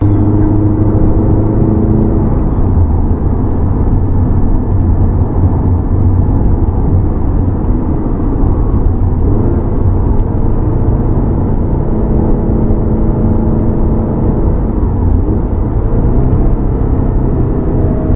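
A Porsche 968 engine of 305 horsepower from Need for Speed Porsche Unleashed drones in a steady, loud mechanical whir, holding a constant pitch throughout without any talk.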